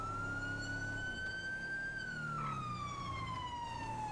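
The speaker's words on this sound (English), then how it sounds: "we could probably cut sirens here." Police car siren from the GTA V LSPDFR video game, a steady, loud wail that rises slowly and then bends down in pitch over a low engine rumble, with no speech.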